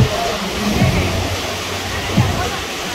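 Water rushes and churns in the wake behind the cruise ship Harmony of the Seas on the way to San Juan, a loud steady roar with wind noise and faint voices in the background.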